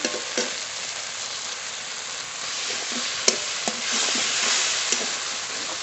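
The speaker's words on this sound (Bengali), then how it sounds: "সর্ষে পোস্ত বেশি কষাবো না হালকা করে কষিয়ে নিয়েছি" Mustard-poppy paste frying for a fish curry, with a steady close sizzle and occasional soft knocks of a stirring utensil against the pan, and no voices.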